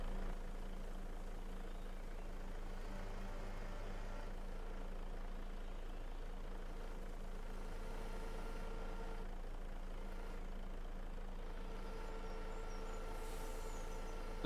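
Truck engine idling in Farming Simulator 25, a steady low rumble with sustained tonal hum holding evenly throughout, no voices present.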